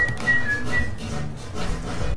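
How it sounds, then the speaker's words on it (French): A short, high, clear whistled phrase of a few quick notes, close and alone, fading out after about two seconds. "De jouer ce petit sifflement"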